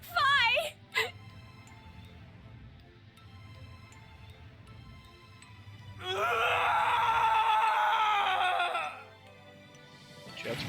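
A video game character in Zero Time Dilemma lets out a long, loud anguished scream that holds for a few seconds after a shorter earlier cry, with quiet background music between.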